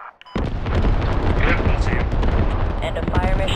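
Artillery volley from a fire mission in a military squad-based video game, loud booming explosions rolling continuously after a sudden onset, with distant blasts layered over each other.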